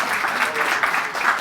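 An audience at a real estate masterclass claps for a volunteer coming up to demo, a short, dense burst of applause that holds steady with a slight voice mixed in.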